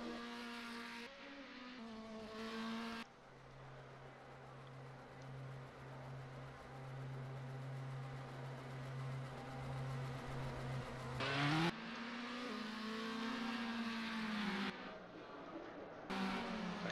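F3 race cars lap the Interlagos circuit in the Automobilista racing game, engines droning and revving, with one car passing close by and loud while others whine in the distance.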